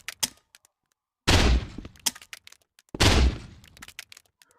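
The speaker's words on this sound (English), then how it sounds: "now we can freely explode it wherever we want" Rocket launcher explosions in the Rec Room video game: two loud, close blasts a couple of seconds apart, each a sharp boom decaying into rumble, with short clicks and taps in between.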